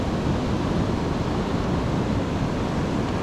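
Strong surf pounds the shore in Zambales, Philippines after a storm, a loud, continuous roar of breaking waves with heavy wind rumble and no voices.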